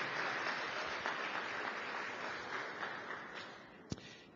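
A church congregation claps together in a steady wash of applause that starts full and slowly fades, heard from a moderate distance, with one sharp louder clap near the end.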